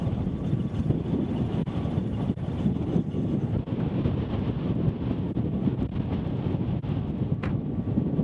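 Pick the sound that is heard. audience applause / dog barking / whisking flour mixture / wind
wind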